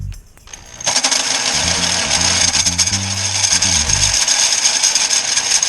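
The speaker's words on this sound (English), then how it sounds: "This guy's using a hammer drill, but he's got it set to the full drill setting here" A hammer drill set to plain drilling bores through a baffle in the exhaust pipe of a 2009 Yamaha Raider 1900cc motorcycle, a loud, steady whining grind up close, its pitch wavering as the bit bites, then running freer near the end.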